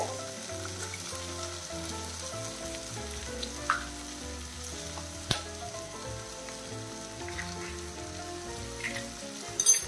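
Egg being stir-fried with ridge gourd: a soft, continuous sizzle with a few sharp spatula taps and scrapes scattered throughout, fairly quiet and with no one talking.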